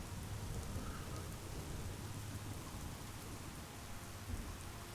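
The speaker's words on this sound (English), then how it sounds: "The rain." Steady heavy rain falling, a dense unbroken hiss of drops with a low rumble beneath, continuous and fairly loud with no voices.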